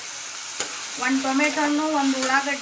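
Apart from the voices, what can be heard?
eggplant frying in oil in a pan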